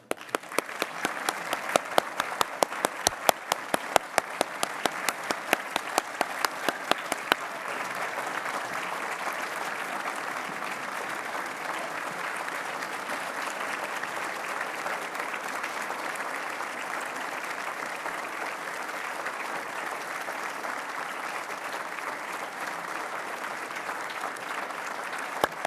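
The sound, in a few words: audience applause at award investiture ceremony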